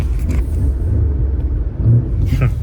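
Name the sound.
loud sports car engine rumbling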